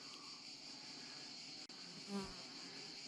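Wasps and hornets buzz faintly while hunting near a cemetery in the Dordogne, a steady high insect drone with a brief closer pass near the end and no speech.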